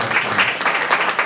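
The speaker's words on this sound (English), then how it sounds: "on behalf of the King Family Library, let's give them a round of applause" A crowd at a Juneteenth celebration claps briefly, a short burst of dense applause at steady loudness with no voices over it.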